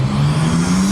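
A loud car engine drones at a high steady pitch, rising slightly as it revs, in one brief close burst with no talking.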